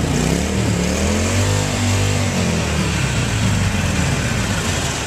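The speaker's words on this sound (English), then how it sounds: "Listen to that engine once more." A Harley-Davidson 883 Iron motorcycle engine revs close by, a throaty low rumble with the pitch sweeping up and easing back as the throttle is blipped, loud and continuous with no talk over it.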